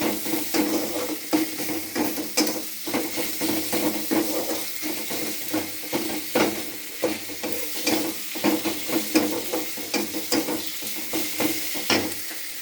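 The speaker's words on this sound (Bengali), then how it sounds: "বন্ধুরা দেখো টমেটো দিয়ে একটু নাড়াচাড়া করে নেবো, ভালো করে একটা গ্রেভি তৈরি করে নেবো।" Tomato is stirred into a frying masala gravy in a pan, a steady close sizzle with repeated scraping strokes of the spoon throughout, no voices.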